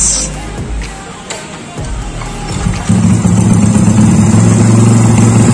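A Honda Astrea Grand 125cc motorcycle cranks over and catches, then settles into a steady, close, loud idle with a low, even putter.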